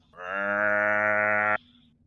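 A human voice imitating a rhino call in the style of a cow's moo, one loud sustained lowing note held about a second and a half before cutting off abruptly.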